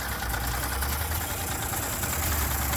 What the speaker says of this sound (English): She runs pretty good. Idling.